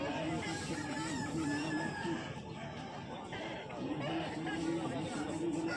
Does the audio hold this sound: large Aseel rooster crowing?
yes